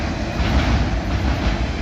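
A freight train near Abbeville, running from Casey, South Carolina to Cincinnati, Ohio with mostly empty cars and a loaded autorack, rolls past close by as a steady, dense rumble and roar with no voices.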